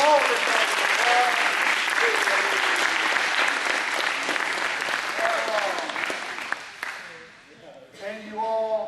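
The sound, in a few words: audience applause at a hypnotist show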